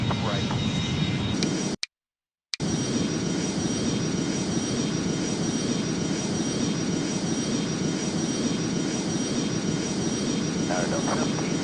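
Boeing 737 landing at Okinawa, with steady loud jet engine roar and broadband rushing noise throughout, briefly cut out near the start, while radio voices from the control tower are faintly mixed in.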